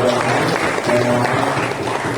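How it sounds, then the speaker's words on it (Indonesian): An audience at a Catholic catechist workers' session applauds a priest, producing a steady, dense clapping that fills the whole short stretch at an even loudness, with a voice faintly mixed in underneath. "Saya kira itu kita beri aplaus untuk Romo."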